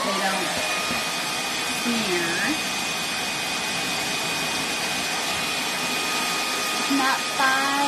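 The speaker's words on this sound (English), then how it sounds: "I'm going to hit these with the hairdryer just for a second" A steady high-pitched whirring of a hair dryer blowing close by, with a voice speaking briefly over the constant airflow.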